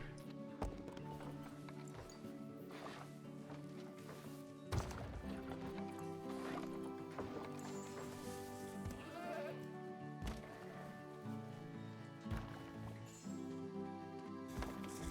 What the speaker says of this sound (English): They're goats. Goats like to jump on rocks.